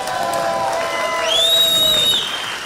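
Awards ceremony audience at a STOL aircraft championship in Sulphur Springs applauding a sponsor, Clemens Insurance: a short burst of steady crowd clapping with a bright whistle-like whoop rising over it.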